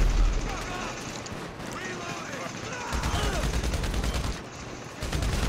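Rapid gunfire from a Juggernaut enemy in GTA Online, a fast repeating stream of shots rattling steadily for several seconds with a brief lull near the end, heard under someone speaking.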